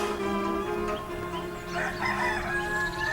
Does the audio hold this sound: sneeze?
no